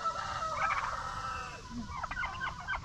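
Several chickens cluck and gobble in a steady background chatter, with a few louder calls breaking through near the end, and no one speaking.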